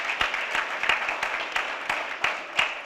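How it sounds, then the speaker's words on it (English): Audience applause at an NAACP jobs campaign event, moderate clapping from a gathered crowd with distinct individual claps standing out in an uneven rhythm, steady throughout. "Give yourselves a round of applause."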